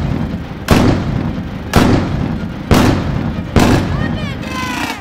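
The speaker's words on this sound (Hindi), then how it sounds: "नॉन पॉल्यूशन पटाखे फोड़ दे भाई।" Four loud Diwali firecrackers go off at regular intervals, each a sharp bang with a booming tail, over continuous background rumble.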